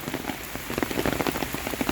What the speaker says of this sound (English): Heavy rainstorm, my friends.